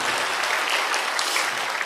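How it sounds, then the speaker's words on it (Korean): A church congregation applauds steadily during a Sunday afternoon worship service, a dense, even clapping that fills the room without pause. "우리 감사의 박수 한번 드리겠습니다."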